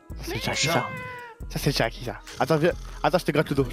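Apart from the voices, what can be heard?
domestic cat meowing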